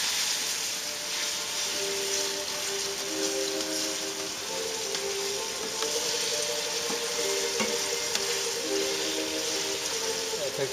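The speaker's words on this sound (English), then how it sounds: "Now we're just going to kind of stir that around till that white wine disappears" Italian sausage and broccoli sizzle steadily in a pan with white wine cooking off, a continuous close frying hiss with faint scrapes of stirring throughout.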